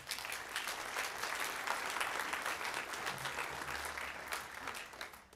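An audience at a winter sports banquet applauds steadily, many hands clapping together in a dense, sustained burst that tapers slightly at the end.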